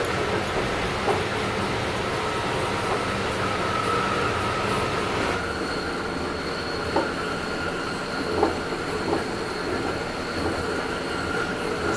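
SMART commuter rail train rolling steadily past, a continuous broadband rumble of wheels and cars with a faint squeal tone and occasional clacks over rail joints, sustained and fairly close for the whole stretch.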